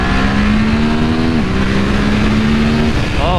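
A 2020 Ducati Monster 1200S motorcycle accelerates hard, its engine tone climbing loud and close, dipping briefly at a gear change before rising again as another vehicle passes.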